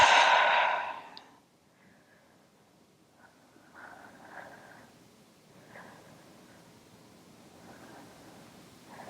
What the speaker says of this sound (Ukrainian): Робимо глибокий вдих через ніс. І видих через рот.